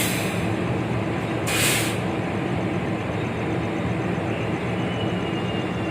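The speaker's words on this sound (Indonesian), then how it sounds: "Kita akan berpapasan dengan kereta lain guys" A passing Bogowonto train rumbles steadily alongside a moving Mutiara Selatan passenger train near Gombong station, with a brief hiss breaking through partway.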